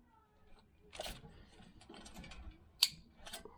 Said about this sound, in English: Connect the harness in there.